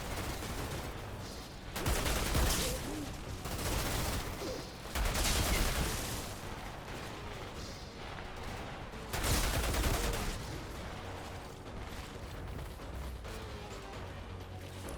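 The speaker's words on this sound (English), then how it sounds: "I've just put the extra powerful twisted bullets into the gun to finish him off" Gunfire in the video game Outriders, dense bursts of rapid automatic shots in several loud volleys, separated by quieter stretches of lingering combat noise, with no talking.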